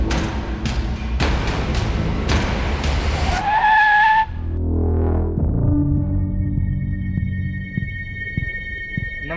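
A car drives past at speed, its tires squealing in a long, loud skid before the engine drones on steadily, with no voices over it.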